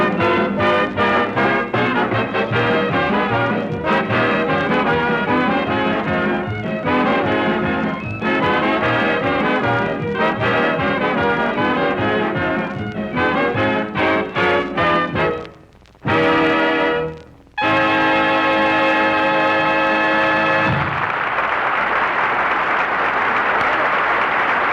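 An orchestra plays a song on a radio broadcast, full ensemble music with a brief pause and a closing flourish, ending in a wash of studio audience applause.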